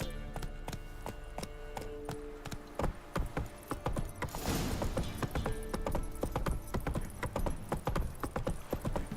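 Steady clip-clop of horse hooves at a ride pace in The Witcher 3 video game, loud and close, continuing alone with a brief burst of rustle midway.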